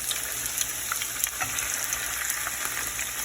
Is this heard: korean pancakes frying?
yes